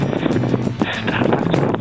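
Wind gusts on a hike along the route to Salaci Peak, a loud, continuous rushing buffet that dominates a short moment.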